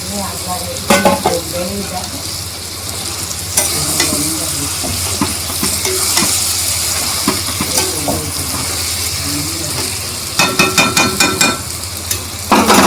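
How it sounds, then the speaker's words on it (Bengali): Hilsa fish frying in a pan with steady, loud sizzling and hiss, joined by occasional clinks and scrapes of stirring utensils and bursts of sharper crackle near the end. "এদিকে এখন দিয়ে দেবো মাছটা"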